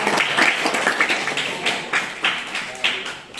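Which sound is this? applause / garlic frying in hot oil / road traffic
applause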